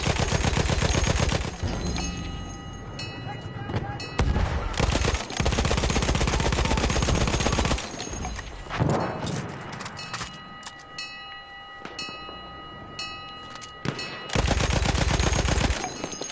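Heavy gunfire in the PS4 open beta of Battlefield 1: dense machine-gun bursts in rapid, loud rattling stretches, separated by quieter pauses filled with battlefield rumble and clanking, with no talking.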